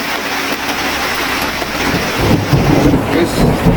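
Heavy rain pours steadily in a dense, close wash while low thunder rumbles underneath, swelling louder toward the end.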